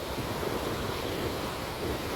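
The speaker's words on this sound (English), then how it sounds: "As you look at this video of the waves" Ocean waves roll in on an Australian coast in a steady, loud wash of surf with wind noise buffeting the microphone, with no pause across the stretch.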